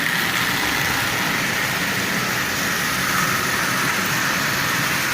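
A Marx Commodore Vanderbilt tin litho toy train fitted with a traction tire runs along its track pulling a long string of cars, giving a loud, steady, unbroken mechanical whir.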